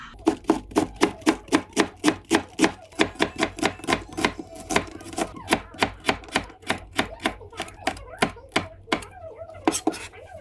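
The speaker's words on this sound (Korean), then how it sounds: "집에 있는 야채들 그냥 몽땅 다 썰어서 넣었습니다" A knife chops vegetables on a board for cabbage shabu-shabu, a steady run of about forty sharp, close, evenly spaced cuts with a few brief pauses and no talking.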